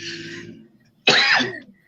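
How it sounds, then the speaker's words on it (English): A single tickly cough from someone with a sore throat, close and fairly loud, a harsh throaty burst after a quieter stretch of breathy throat noise. "every now and again I get a tickly cough"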